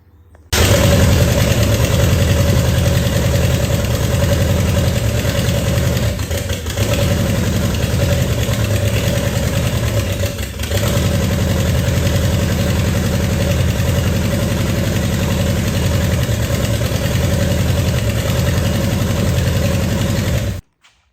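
An old 345 V8, fed used motor oil and running for the first time in decades, idles steadily and loudly up close for about twenty seconds, with a brief dip midway and no talk over it.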